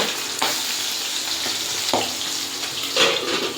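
Steady sizzling and crackling of frying in hot oil, with a few sharper pops and clatters over the continuous hiss.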